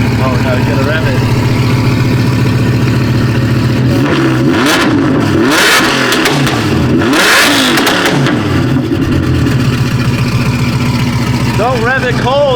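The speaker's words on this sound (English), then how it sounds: "you gotta rev it" A car engine with a dual-clutch transmission idles loudly, then revs up twice in rising and falling surges before settling back, heard close while people talk over it.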